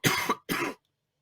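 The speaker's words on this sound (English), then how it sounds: "Had a bit of a coughing fit." Two sharp coughs in quick succession, close and fairly loud, then silence.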